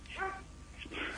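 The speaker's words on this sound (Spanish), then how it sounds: "Es el perro que nos está ladrando desde Santiago de Chile." A dog barks in the distance during a radio-style studio conversation, giving two short yipping barks, faint and brief.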